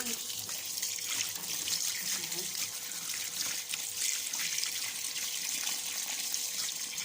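Tap water runs steadily over meat set to soak, a continuous moderate splashing flow that lasts throughout with no clear break.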